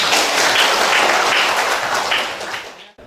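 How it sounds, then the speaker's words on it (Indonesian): Students in a classroom clap together, a dense burst of applause that holds steady and then tapers off quickly into silence at the end. "Masya Allah, tepuk tangan ya."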